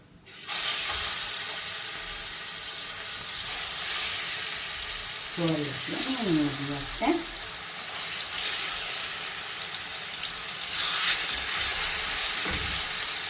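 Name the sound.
king fish frying in oil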